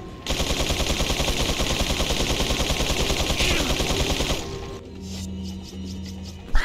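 Rapid automatic gunfire in Resident Evil 4, a steady loud stream of shots for several seconds that stops abruptly, followed by quieter game tones and a final sharp hit.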